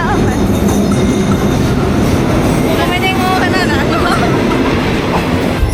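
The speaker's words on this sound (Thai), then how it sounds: "เดี๋ยวเราจะนั่งรถไฟนะคะ ไปลงที่สถานี ชะอำชะอำค่ะ" Passenger train heading to Cha-am station in Thailand, its steady loud rumble and clickety-clack of wheels on rails filling the cabin from start to finish, with faint murmuring voices and a brief squeal mixed in.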